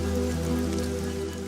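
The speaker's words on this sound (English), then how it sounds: "The rain is a welcome relief, but Mike is struggling to collect it." Rain patters onto surfaces in the desert, a steady spattering hiss over a low, constant tonal hum that continues evenly throughout.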